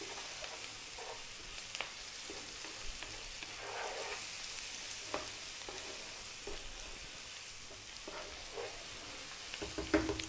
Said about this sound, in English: just 3 minutes on this medium heat, stirring all the time now